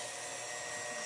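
An electric hand mixer whips Milo dalgona in a bowl with a steady, strained, high-pitched whine that stays constant and close throughout.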